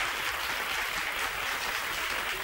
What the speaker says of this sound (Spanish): Un nuevo aplauso para los tres